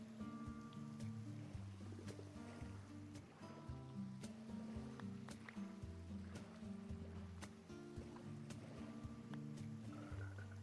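A boat glides across water in Minecraft with a steady splashing and sloshing wash, paddle strokes heard as faint regular ticks over a soft, continuous game background.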